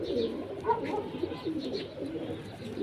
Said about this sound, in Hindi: इसमें मादा जो थी वो चौधरी साहब वाली थी, और नर जो था वो मिस्रुद्दीन साहब वाला मिसा कबूतर था।